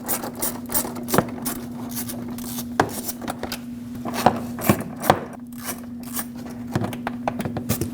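A 10mm socket wrench turns out fender liner screws on a Lexus IS250: a series of short metallic clicks and ratcheting taps, irregularly spaced and close, over a steady background hum.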